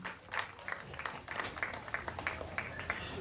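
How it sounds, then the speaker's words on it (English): A softball crowd at a Perry versus South Hamilton high school game claps and cheers in a quick, uneven patter of many hands, moderately distant and fairly soft, with an announcer's voice faintly mixed in. "Crowd's going crazy"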